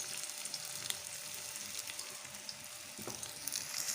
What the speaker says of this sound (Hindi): ये देखिए कितने ज़बरदस्त ये हमारे फ्राई हो रहे हैं मीडियम फ्लेम पे